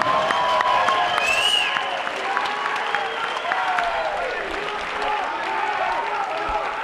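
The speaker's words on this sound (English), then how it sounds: "how about a nice round of applause for both fighters," A crowd at a Muay Thai fight night in a convention center in Bradenton, Florida, gives loud, continuous applause with scattered cheers and whistles, filling the hall throughout.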